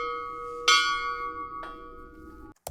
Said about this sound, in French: Il suffit simplement de sonner la cloche.